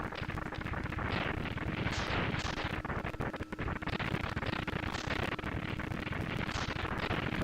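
Boss explosion in the Mega Man X2 video game, a dense and continuous barrage of rapid crackling blasts that stays loud and unbroken, with no voices.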